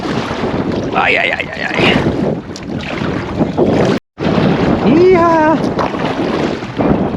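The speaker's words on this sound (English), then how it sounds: "Whew, against the wind." Strong wind roars and buffets the microphone while a kayak is paddled against it on open water near a campsite, loud and continuous with a brief dropout, and a person speaks a few words over it.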